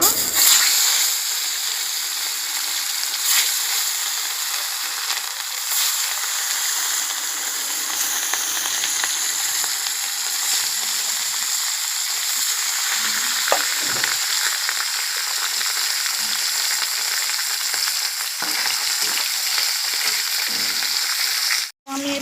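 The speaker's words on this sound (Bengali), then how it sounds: "কড়াতে তেল গরম হয়ে গেছে আমি মাছগুলো এবার একে একে ছেড়ে দেবো" Katla fish fry in hot oil in a kadai with a steady, loud, bright sizzle that carries on without a break. There are occasional spits and splatters, and it cuts off abruptly at the end.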